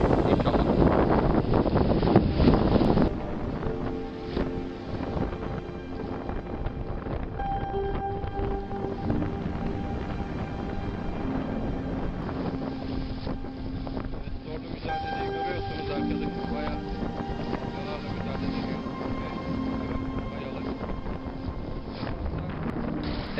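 A strong northeasterly Poyraz wind buffets the microphone on the Çanakkale coast, a loud, steady roar with rumbling gusts. Faint tonal hums run underneath it.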